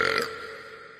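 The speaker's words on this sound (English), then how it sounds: "I burp really loud in an underground parking structure to assert my dominance." A single loud, throaty burp from a Family Guy character, strongest in the first quarter second and then trailing off into a rough, fading tail.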